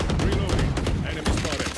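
Rapid gunfire in the video game Valorant during a VCT Pacific pro match, dense overlapping shots and bursts filling a short, loud stretch, with commentary voices beneath.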